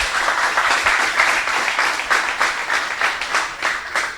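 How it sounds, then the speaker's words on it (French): Applause from an audience at a high school quiz contest between two lycées, a steady wash of clapping hands filling the room without pause, with no talk over it. "M'a demandé pour nous applaudir tout."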